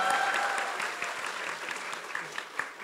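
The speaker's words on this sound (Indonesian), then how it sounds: "Boleh tepuk tangan untuk Pak Tom." Audience applause for a speaker at a political campaign event in Bandung, a steady wash of crowd clapping with a few louder individual claps near the end, heard at moderate distance.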